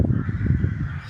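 Crows cawing in a park, a short burst of loud, harsh calls up close, with no talking.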